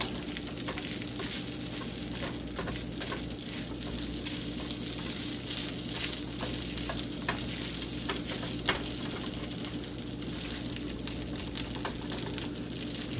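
Egg frying in a pan for breakfast fried rice, a steady soft sizzle and crackle running throughout at moderate level, with faint stirring sounds.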